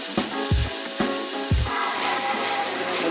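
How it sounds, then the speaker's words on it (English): Food simmering and sizzling in a pan for a plantain canoa dish, a steady close hiss with a few soft stirring knocks, no voices. "Let's let this simmer for a while."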